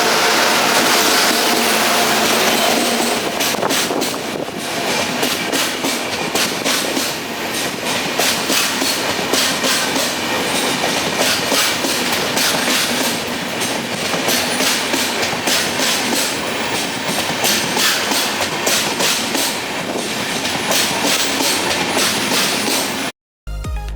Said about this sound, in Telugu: అదో ఇక్కడ వచ్చేది ట్రైన్